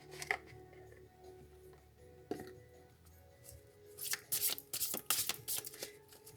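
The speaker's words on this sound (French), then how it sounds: "Donc je vais vous tirer une carte pour cette semaine" Oracle cards being shuffled by hand, a couple of faint isolated taps at first, then a quick run of crisp riffling flicks near the end, quiet and without talk.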